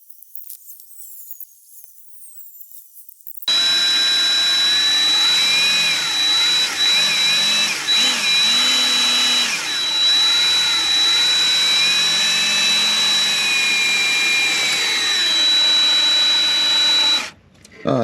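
A pump drives transmission oil into a 2020 Jeep Gladiator with a manual gearbox, giving a loud, steady whirring drone that runs for about fourteen seconds, then stops abruptly.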